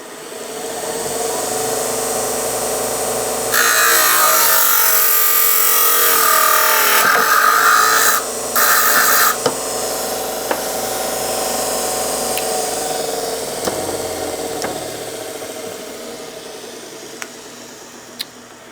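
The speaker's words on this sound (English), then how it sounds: "turn on our cutting wheel and go ahead and make that cut" A cutting wheel slices through a golf putter shaft, a BGT Stability putter shaft, with a loud, harsh grinding shriek lasting several seconds amid steady motor whine that carries on before and after the cut.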